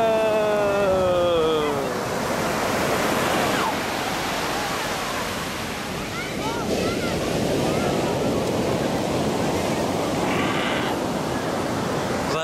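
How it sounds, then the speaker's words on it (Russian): Steady roar of Pacific surf breaking on Baker Beach, San Francisco, close and loud, with wind buffeting the microphone and brief faint voices and high calls. "Пойдем к океану."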